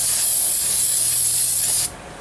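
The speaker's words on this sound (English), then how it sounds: "You just spray it on the rotor." Brake cleaner from a single aerosol can sprayed onto the brake rotor of a 2009 Hyundai Genesis during a front brake job: one loud, steady hiss lasting nearly two seconds, then cutting off abruptly.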